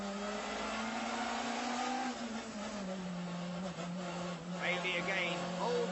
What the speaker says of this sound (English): back up to fourth gear, now fifth. Lifts off the throttle slightly, tries to get a better line into Priory, but Bailey's blocking him.